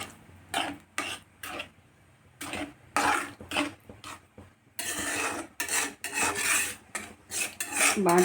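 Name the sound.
scraping masala off pan sides with a spoon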